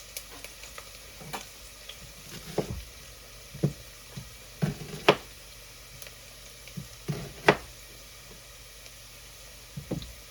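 Quiet sizzling of vegetables, including celery, frying in coconut oil in a pot, with scattered clicks and taps of stirring, steady and close with no talk.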